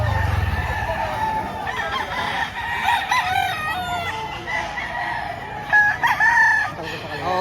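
Fighting roosters crow and cluck at a Saturday rooster market in Lipa, Batangas, several calls overlapping at close and middle distance over a busy crowd murmur.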